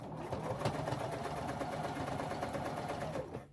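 A sewing machine runs a steady straight stitch along the edge of a half double crochet colorwork patch, a continuous close, even whirring hum for the whole span with no talking.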